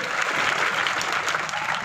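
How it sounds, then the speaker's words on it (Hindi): Loud, continuous applause from an audience at a commemorative event honouring Sardar Vallabhbhai Patel's 150th birth anniversary in Bagidora, steady and dense throughout without pause. "मैं चाहूंगा कि जोरदार ताली बजनी चाहिए और इनको याद में करना चाहिए"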